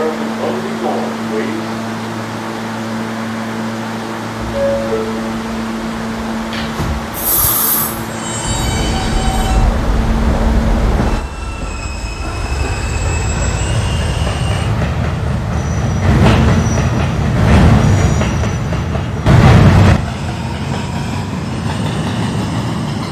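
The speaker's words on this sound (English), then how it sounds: "This is a Calhoun bound K train." An R160A subway train runs through a Roblox rail game: a rising motor whine pulls away, then rumbling wheels, clickety-clack and squealing build loudly on the tracks, with announcement-style talk over the first part.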